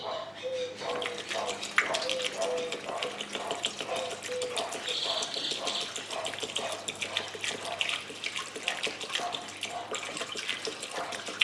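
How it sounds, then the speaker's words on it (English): Ethanol fuel pouring through a funnel into a GY6 scooter's fuel tank, a steady liquid trickle and splash running throughout at close range, with faint background noise. "And now we poured in some ethanol."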